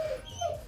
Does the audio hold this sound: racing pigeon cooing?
no